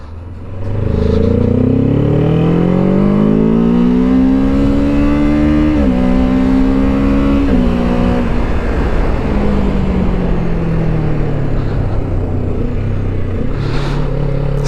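A 2024 Kawasaki Ninja 7 Hybrid motorcycle pulls onto the road and accelerates, its engine note climbing steadily through loud, close revs with brief dips at gear changes and no talking.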